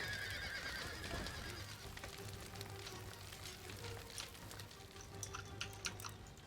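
Cavalry horses neigh in an Empire Total War battle, a faint whinny early on set among distant hoofbeats, clatter and steady battlefield noise.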